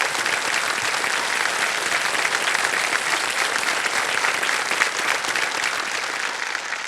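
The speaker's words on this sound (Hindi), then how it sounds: "ये तालियां बज जाएं इनके लिए" Studio audience applauding a contestant on the Hindi quiz show KBC (Kaun Banega Crorepati), a dense, steady roar of clapping that holds at full strength for the whole stretch, with no talk over it.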